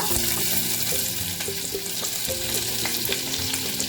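Onion sizzling as it fries in a couple of spoons of hot oil for a black pomfret fish curry, a steady dense crackle with faint stirring, close and continuous.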